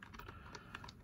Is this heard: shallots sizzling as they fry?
no